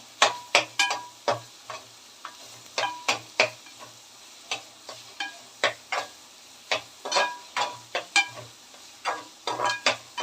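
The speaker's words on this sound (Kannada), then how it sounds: "ಈರುಳ್ಳಿ ಹಾಕಿದ್ಮೇಲೆ ಸ್ವಲ್ಪ ಕೆಂಪುಗೆ ಚೆನ್ನಾಗಿ ಹುರಿಬೇಕು ನೋಡಿ ಈ ರೀತಿ" Onions frying in a pan for a vegetable palya, stirred with a spatula: close, irregular scraping strokes over a steady faint sizzle, with no talking.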